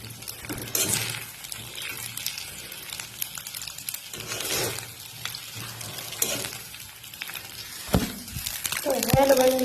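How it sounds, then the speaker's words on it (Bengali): An egg frying in a pan for pasta, a soft crackling sizzle under intermittent stirring and scraping strokes, with a brief metallic knock near the end, close by. "ডিম দিয়ে আমি একটু ভেজে নিলাম"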